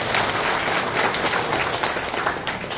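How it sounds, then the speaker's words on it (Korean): Steady applause from the audience at a Democratic Party regional committee meeting in Nampyeong, a dense, continuous wash of many hands clapping at full loudness with no talk over it. "박수 한번 보내주세요."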